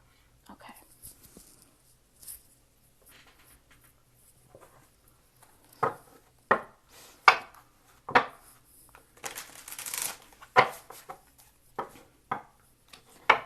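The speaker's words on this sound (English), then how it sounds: "I didn't pre-shuffle these cards, so bear with me here for a minute as I shuffle." Tarot cards riffle and slap in a series of crisp bursts, quiet at first then louder and more regular, with soft rustling between.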